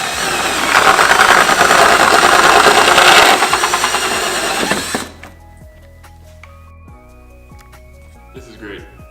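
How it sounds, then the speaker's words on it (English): A power drill with a hole saw grinds loudly through the rear bumper of a turbo Honda del Sol for about five seconds, then stops, leaving quieter background with a voice. "I can take a hole saw through there"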